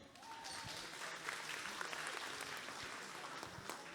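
A convention crowd at an anime panel celebrating One Piece's 25th anniversary in Rouen claps for a few seconds, a soft, fairly distant, steady patter of applause with a faint murmur of voices beneath.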